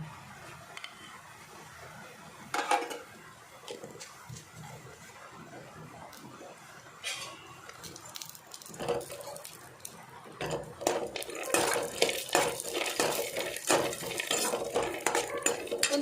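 Vermicelli frying in ghee in a pan for vermicelli kheer while a utensil stirs it, soft at first and then building into busier scraping and sizzling near the end, no voices.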